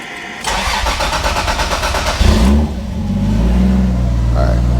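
A Toyota MK3 Supra engine on a standalone ECU cranks with a fast, whirring starter for about two seconds, then catches and settles into a loud, rough, uneven idle, close and steady, with brief talk over it.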